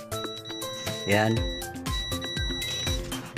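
A steady high electronic beep from a continuity tester checking a switch on a vacuum cleaner with no power sounds across the clip, briefly cutting out midway, while someone talks over it.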